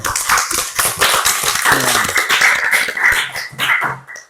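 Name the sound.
classroom applause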